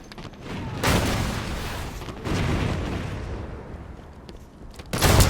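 Incineration cannon fired in Halo 5, heard as three loud, broad booming blasts at roughly one-to-two second intervals, each with a rumbling decay, plus a sharper burst at the very end.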